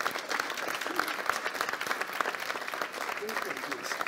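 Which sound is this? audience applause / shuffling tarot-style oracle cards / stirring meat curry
audience applause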